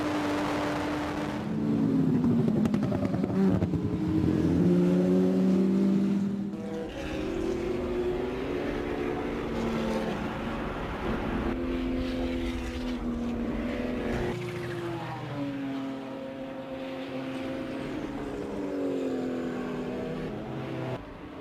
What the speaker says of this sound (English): This is the view from Brian Redman's Lola prototype at the Mo Sport Park in Canada